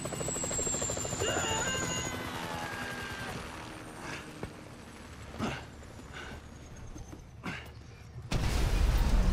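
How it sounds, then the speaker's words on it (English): A helicopter in the Grand Theft Auto V video game flies overhead with a rhythmic rotor chop that swells and fades, with a few thuds along the way and a louder burst of noise at the end; no one speaks. "Can you hear that? Chopper! Incoming!"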